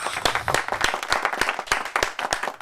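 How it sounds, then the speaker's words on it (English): A small group clapping to welcome a fashion photographer guest on a podcast, close, uneven individual claps forming brief, loud applause. "How about a big round of applause?"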